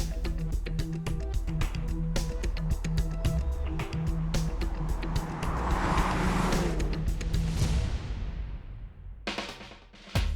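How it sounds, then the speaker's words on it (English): Audi RS Q3 with its five-cylinder turbo engine, a car accelerating hard close by with a rising, raspy engine note and quick gear changes, then easing off and fading before a final brief burst. "Audi's horribly underutilized 5-cylinder turbo powers the RS Q3 with superb ability and a great noise to match."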